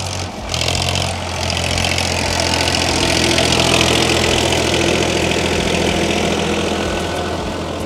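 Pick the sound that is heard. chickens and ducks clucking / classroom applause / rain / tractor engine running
tractor engine running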